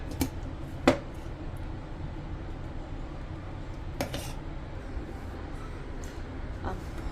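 A metal pressure cooker clinks and clatters a few times while ghee goes in for Hyderabadi chicken haleem, with sharp isolated knocks over a quiet kitchen background.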